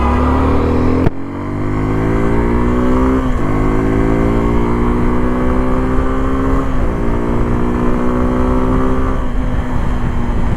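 A Suzuki V-Strom SX 250 motorcycle accelerating hard on the road, its engine note climbing through the gears with rising pitch sweeps and brief drops at each shift, loud and continuous with no talking.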